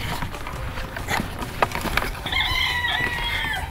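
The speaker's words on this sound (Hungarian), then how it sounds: "Van még itt kakas." A rooster crows partway through, a drawn-out harmonic call rising over a noisy farmyard background with scattered clucks and thumps.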